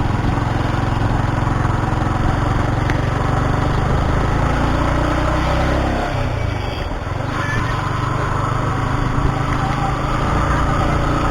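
A motorbike engine climbs slowly uphill on the road to Ajodhya Pahar in Puruliya, a steady low drone running throughout with a brief dip partway, up close.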